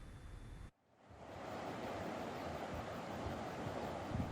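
A flooded Batanggadis river surges after heavy rain, a dense, steady roar of rushing water that cuts out briefly, then swells back to a constant wash.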